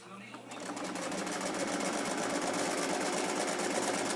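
Sewing machine stitching darts on a vintage-pattern garment, a steady rapid whirring clatter that starts after a brief quiet moment and runs continuously, close and loud.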